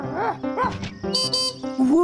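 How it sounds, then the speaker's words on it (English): An animated cartoon puppy gives a run of high, sing-song barks and yips, several short bursts close and clear with a bright whistling tone between them. "It's a puppy dog."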